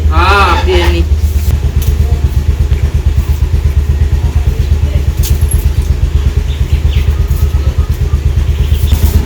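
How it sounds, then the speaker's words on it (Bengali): A vehicle engine in a rainy village turns over and settles into a loud, close, rhythmic idle with a steady pulsing chug; a voice speaks briefly at the very start. "আমি আবার গাড়িটা স্টার্ট করে রাখছি"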